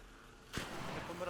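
A single gunshot in the video game ARC Raiders cracks out at a distance, a short sharp report with a brief rumbling tail against a quiet background.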